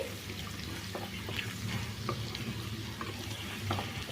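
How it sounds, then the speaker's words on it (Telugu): Ginger garlic paste frying in oil for mutton pickle, a soft steady sizzle with intermittent stirring clicks and scrapes, fairly quiet and without speech. "రెండు నిమిషాలు చక్కగా ఈ ఆయిల్లో అల్లం వెల్లుల్లి పేస్ట్ అయితే ఫ్రై అవ్వాలి"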